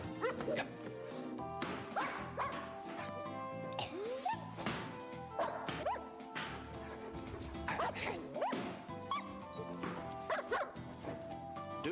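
A dog barks repeatedly in short, sharp bursts, close by, with yips and rustling movement between barks.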